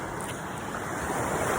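Ocean waves wash at the seaside in a steady broad rush, mixed with wind buffeting the microphone, heard alone without talk.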